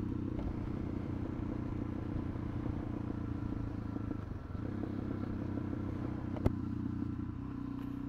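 Suzuki DRZ 400SM motorcycle cruising on the highway, a steady engine drone mixed with heavy wind rumble from the rider's position, with one brief click near the end and no talk.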